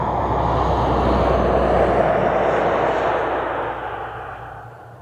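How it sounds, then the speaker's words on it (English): Two Chinook helicopters flying near Aberdeen Airport produce a loud, continuous broadband roar that holds steady and then eases slightly. "Two Chinooks heading to his golf club right now."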